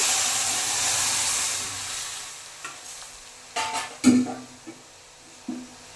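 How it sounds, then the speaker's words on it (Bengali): Boiled lentils go into a cooking pan. A hissing sizzle fades, then a few soft splashing thuds and scrapes sound close by, with no speech. "এরপর আমি এই যে সেদ্ধ ডালটা দিয়ে দিচ্ছি।"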